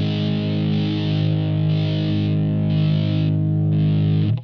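A Gibson Firebird X electric guitar rings out through a compressor patch with the noise gate lowered, a loud, distorted, sustained chord that holds steady with a faint pulsing shimmer before cutting off.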